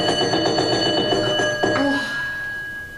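An alarm clock rings with a steady, loud electronic tone and pulsing repeats that fill the moment, cutting off abruptly partway through and leaving a quieter room afterward.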